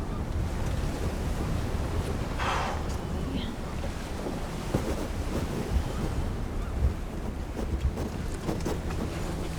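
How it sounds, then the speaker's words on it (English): Rough ocean waves at sea wash and churn continuously with heavy wind buffeting the microphone, a dense steady roar with no pauses. "Ocean's a little rough today."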